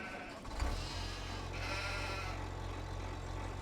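A sheep bleats once in Farming Simulator 25, short and close, then a steady low mechanical drone carries on for the rest of the clip.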